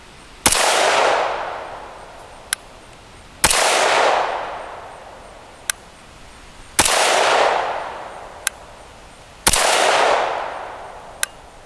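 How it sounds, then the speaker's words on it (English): Four loud, sharp rifle shots fired over a Magneto Speed chronograph, evenly spaced about three seconds apart, each a cracking bang with a decaying echo, followed by a small metallic click. "So I'm going to go ahead and shoot 5 rounds and we'll see what type of results we get."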